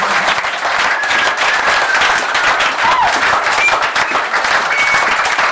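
A church congregation breaks into sustained applause to acclaim the king, dense clapping filling the space evenly and loudly throughout, with no speech over it.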